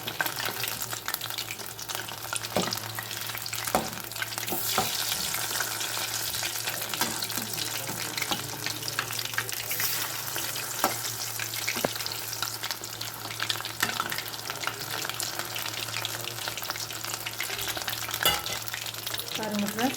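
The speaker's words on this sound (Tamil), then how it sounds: "கொஞ்சம் அடுப்பை மீடியமாக வச்சுட்டு நம்ம பொரிச்செடுப்போம்" Chicken leg pieces fry in oil over a medium flame, making a steady, dense sizzle and crackle throughout. Faint utensil knocks and a low hum sit beneath it.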